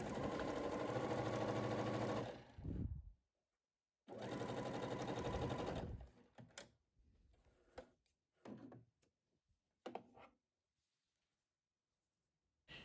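Sewing machine stitching a quilted coaster along a diagonal line in two steady bursts of rapid whirring, each a couple of seconds long, followed by quiet handling clicks and brief short stitches.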